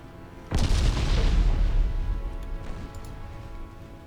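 A single loud, deep boom from a hit on a ship in the naval battle game Ultimate Admiral Dreadnoughts, followed by a long rumbling decay with no talk over it.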